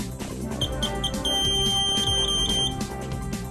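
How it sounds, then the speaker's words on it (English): A Citizen CT-S2000 receipt printer's error buzzer gives a series of short high electronic beeps, then a sustained tone, heard over background music. "If an error occurs, LED and buzzer indications inform you of the type of error."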